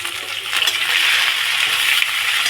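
Chopped onion, garlic and panch phoron frying in hot oil, a continuous close hiss and crackle that swells slightly and holds steady throughout, with no talking.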